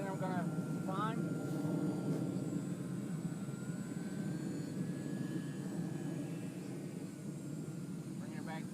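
Multiplex FunCub RC airplane flying at a radio-controlled model airfield in South Carolina, a thin engine whine rising and shifting in pitch at a distance, with people talking over it.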